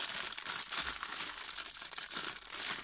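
A large white plastic bag holding artificial flowers crinkles and rustles up close, a steady stream of crisp crackling with louder bursts, no voices.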